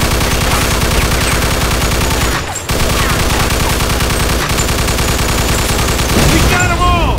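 Dense, continuous gunfire from a shootout in the video game Mafia II, loud and relentless with rapid overlapping shots, a brief break midway, and voices shouting over the barrage near the end.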